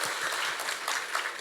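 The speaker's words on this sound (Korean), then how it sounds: "큰 박수로 맞이하겠습니다." Audience applause at an economic forum welcoming a speaker, a steady even clatter of many hands clapping throughout.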